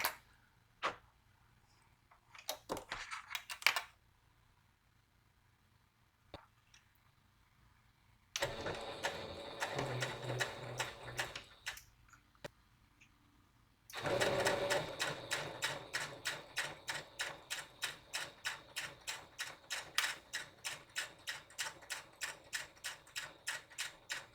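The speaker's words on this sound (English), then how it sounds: "And now we sew it." Sewing machine stitching a seam on a Star Trek cosplay skirt, starting with scattered clicks and short bursts, then a louder run, then a steady rapid mechanical rattle of needle strokes, close and alone without talk.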